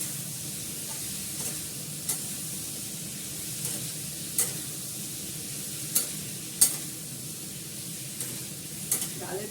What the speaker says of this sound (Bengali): নাড়াচাড়া করে নিই। নাড়াচাড়া করে জল দেবো